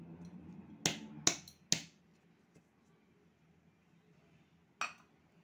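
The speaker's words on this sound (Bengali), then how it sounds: "তো এবারে সবগুলো আমি এইভাবে চামচের সাহায্যে ছাড়িয়ে নেব।" A metal spoon knocks and clinks against a pan while loosening rasmalai pitha, giving three sharp clicks in quick succession, then one more after a pause.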